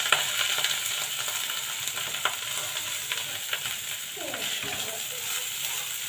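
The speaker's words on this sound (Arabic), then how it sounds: "وهشوحه بقى شويه" Freekeh sautés in cooking fat with a constant soft sizzle, with occasional stirring scrapes and a quiet voice briefly in the background.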